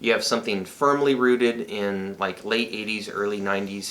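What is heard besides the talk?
No everyday noises stand out.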